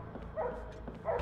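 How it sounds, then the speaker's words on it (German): A dog barks in the horror video game The Nightfall, a few short yelps and whimpers heard faintly in the background with no talk over them. "Oh, Molly bellt"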